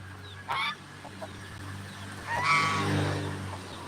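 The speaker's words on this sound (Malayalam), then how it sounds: "ടർക്കിക്കോഴി" A turkey gives a couple of harsh, honking calls on a farm among other poultry, one brief call followed by a longer one, close by over a steady low hum.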